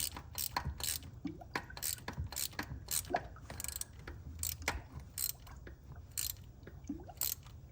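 Ratchet snugging a bolt on a 2014 Ram water pump, quick irregular clicking strokes under a low steady background hum, moderately close.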